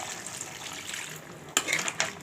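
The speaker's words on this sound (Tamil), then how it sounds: "இதுக்கு தேவையான அளவு தண்ணி ஊற்றிக்கலாம்." Water is poured into a pan of crab gravy while cooking. It makes a soft, continuous gushing sound at close range, with a couple of sharper splashes near the end.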